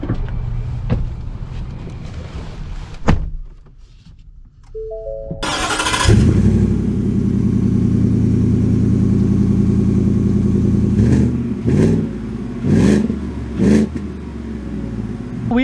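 Ford F-150 RMT Off-Road pickup engine cranks and fires after a quiet moment, settling into a loud steady idle, followed by several sharp revs rising and falling near the end.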